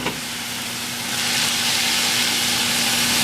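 A loud, continuous hiss of steam and sizzling as water steams cauliflower rice in a hot pan, rising slightly and holding steady, close up with a faint hum underneath and no voices.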